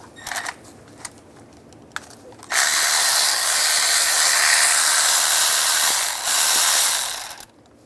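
A ratchet with a 10mm socket backs a bolt off a 2007-13 Chevy Avalanche during a camshaft position sensor replacement: a few close, isolated clicks, then a loud, sustained rapid whirring that runs for about five seconds before stopping abruptly.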